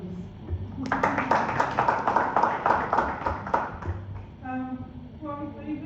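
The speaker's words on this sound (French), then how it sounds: "il faudrait qu'on s'applaudisse" An audience applauds itself at a conference on freedom of information, with a burst of distinct, fairly even claps from a modest crowd lasting a few seconds before tapering off into speech.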